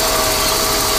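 A Ford EF Falcon engine idles with an intermittent fault, giving a steady, loud broadband hum and drone with no talk over it.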